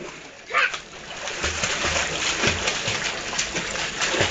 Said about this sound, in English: See? Ate Mia keeps swimming